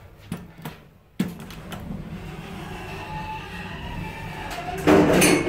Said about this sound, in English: These doors don't sound great.